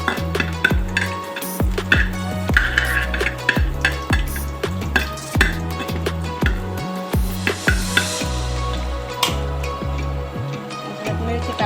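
Chopped ginger and garlic sizzling in hot oil for Schezwan fried rice, with a spoon scraping and clanking rhythmically against the pan over a continuous frying hiss.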